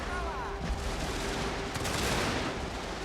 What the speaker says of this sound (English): The Americans are firing heavy now towards the center.